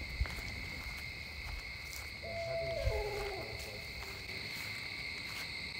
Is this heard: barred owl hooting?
yes